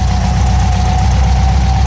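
An engine runs loud and close at a steady, throbbing rev of about 2,500 RPM, with a deep rumble and a constant mid-pitched drone.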